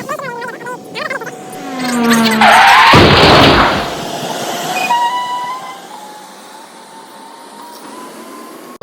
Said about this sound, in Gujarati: ત્યાં ખાલી એન્જિન ખાલી જવા માટે નીકળી ગયું હતું